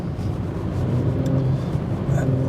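A 2017 Audi S5 Coupé's engine hums as a steady, low drone heard from inside the cabin while cruising on a motorway, continuous and even throughout.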